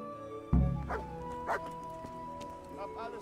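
Dog barking in the medieval role-playing game Kingdom Come: Deliverance: a loud, close bark at the onset followed by a couple of shorter yips, over game music and ambient sound, with someone talking.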